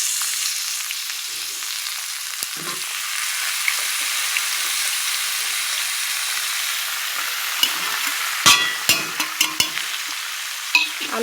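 Potatoes, onion and young jackfruit fry together in a pan with a soft, steady sizzle, and a few clacks and scrapes of stirring land near the end.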